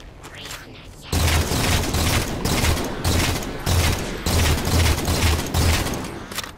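Sniper rifle gunfire in Halo 4, a rapid series of heavy shots and booms after a quieter opening, loud and close with short gaps between bursts.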